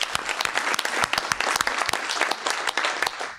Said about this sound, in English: Just a nice round of applause, please.